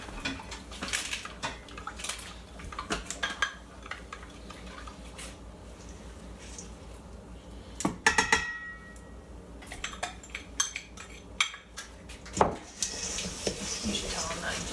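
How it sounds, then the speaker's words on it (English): A spoon scrapes and clinks around a bowl as granola bar mixture is stirred, with irregular knocks and clatters at close range while people talk nearby. "we're gonna stir it all together"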